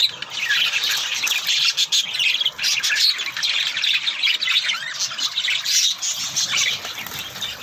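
Caged pet birds with their babies squawk and chirp continuously at close range, a dense, busy chorus of shrill calls with no talking.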